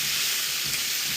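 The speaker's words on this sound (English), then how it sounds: "Get a good stir on here." Tomato mixture sizzles in a hot pan while being stirred, a short burst of steady frying hiss with a soft scrape of the spoon.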